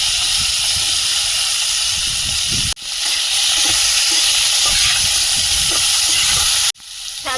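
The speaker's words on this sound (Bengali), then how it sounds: "আদা কোড়া আলু আর সজনে ডানাটা আগে একটু ভেজে নেব" Potato pieces and drumstick (moringa) stalks with ginger and panch phoron fry in hot oil, giving a loud, steady sizzling hiss that cuts out briefly twice.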